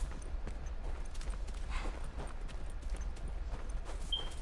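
Deer hooves in The Last of Us, a buck running off, heard as a rapid, fairly loud patter of hoofbeats over constant low outdoor rumble and wind, with no talking.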